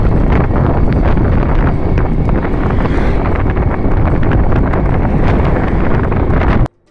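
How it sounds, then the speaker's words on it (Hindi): Cold wind roars steadily over a microphone outdoors while traveling, a loud, continuous buffeting rush that lasts throughout and then cuts off abruptly at the end. "बहुत ज़्यादा ठंडी हवा चल रही है"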